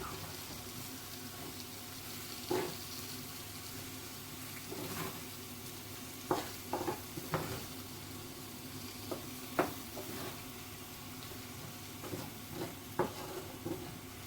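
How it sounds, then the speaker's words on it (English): Moroccan chicken and rice sizzle softly in a pan while a spoon stirs, adding scattered knocks and scrapes over a continuous low frying hiss. "Just give everything a really good stir."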